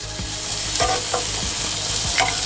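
Country style BBQ ribs sizzle loudly on a barbecue grill as they are turned bone side down, a steady close crackling hiss with a few soft scraping and shifting sounds.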